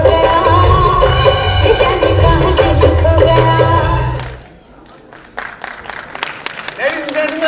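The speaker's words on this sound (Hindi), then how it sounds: "एक बार फिर जोरदार तालियां" Audience applause at the red carpet of an awards event: a loud sound with a voice or music fades after about four seconds, and scattered clapping from a crowd then rises.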